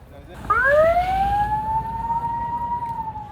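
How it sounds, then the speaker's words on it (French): An ambulance siren wails close by amid the Hajj crowds as injured pilgrims are evacuated, one loud sweeping tone rising and then holding steady over a background murmur. "Les ambulances évacuent des blessés."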